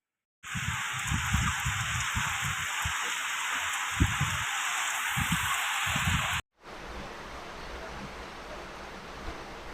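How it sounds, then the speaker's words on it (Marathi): Steady, dense hiss of heavy rain with muffled low thumps underneath; it cuts off briefly, then returns as a quieter, even patter. "आमच्याकडे तर भरपूर पाऊस आहे"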